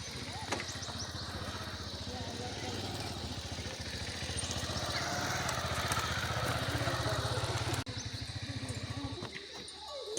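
Motorcycle crossing a suspension footbridge in Nepal, its engine putting along steadily at moderate distance before cutting out near the end, with voices talking over it.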